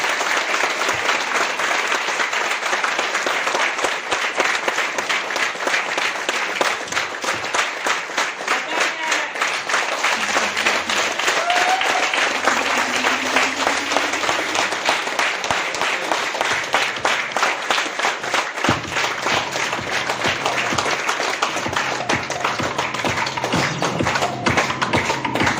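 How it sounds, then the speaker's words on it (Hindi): A large audience applauds loudly and continuously at a direct selling seminar in India, a dense steady wash of clapping that fills the whole stretch. "जोरदार ताली"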